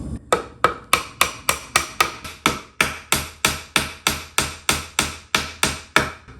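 Steady hammer taps drive a wooden dowel into a chair leg during a repair, about twenty sharp, evenly spaced knocks, close and loud with no talking.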